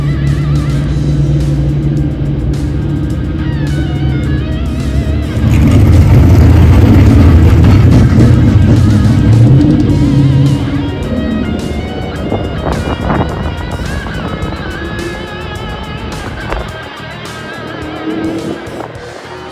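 Corvettes and other cars lapping the NCM Motorsports Park track during an event, engines roaring loud and continuous, swelling as they pass nearby and then fading, with occasional tire squeal.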